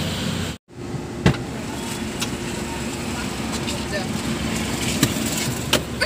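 Car noise in a Hindi family vlog, a steady engine and road rumble filling the scene with a few short clicks and knocks, likely doors or windows, while people talk over it.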